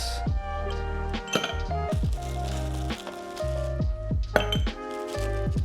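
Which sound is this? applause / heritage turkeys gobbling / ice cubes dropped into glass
ice cubes dropped into glass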